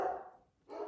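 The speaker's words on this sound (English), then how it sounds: "Those are just my dogs." Several household dogs barking indoors, a burst of barking at the start, a brief lull, then more barking resuming near the end, fairly faint and distant.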